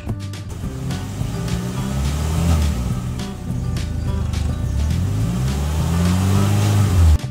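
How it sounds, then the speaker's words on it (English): A Hyundai Creta facelift, N-line version, with its engine revving repeatedly, rising and falling in loud close surges over a steady idle. "Now let's check the engine sound of this car."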